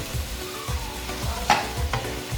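Blended onion is stirred into a beef karahi over high heat. A continuous sizzle runs under rhythmic scraping strokes about every half-second, with one sharper metallic clink midway.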